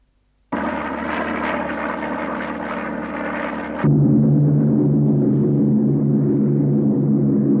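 Propeller aircraft engine droning steadily in flight, loud and close, shifting abruptly partway through to a deeper, heavier engine tone that continues to the end.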